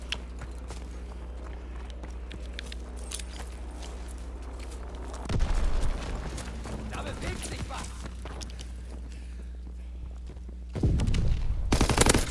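Video game combat with improvised explosives and gunfire: a steady engine-like hum underlies scattered shots, then two loud explosive bursts hit partway through and near the end, with game voice callouts heard throughout.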